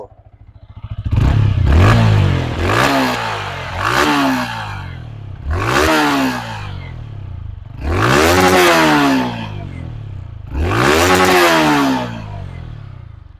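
A Yamaha R motorcycle engine revs repeatedly, five or six sharp throttle blips rising and falling in pitch over a rumbling idle, loud and close.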